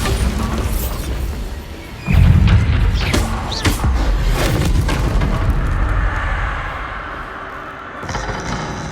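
A Bombarda blasting spell in Hogwarts Legacy on PS5: a deep booming blast with thuds and crashing debris, followed by a rumbling tail that fades, among game effects.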